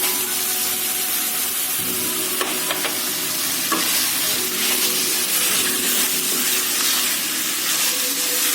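Steady sizzling of paneer frying in a pan over medium heat, with occasional stirring clatter and scraping, no voices.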